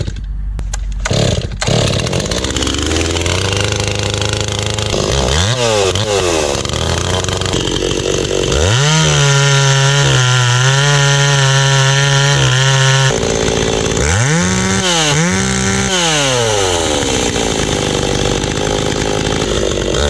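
A chainsaw being tuned after porting runs loud and close, idling roughly, then revving up and down repeatedly in rising and falling engine whines, with no talk.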